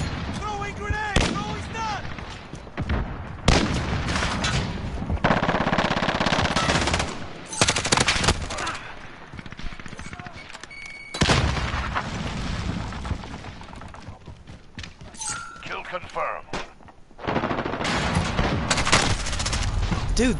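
Rapid automatic gunfire and bursts from a modern first-person shooter video game, loud and dense, with short pauses between volleys and a player's voice talking over the action.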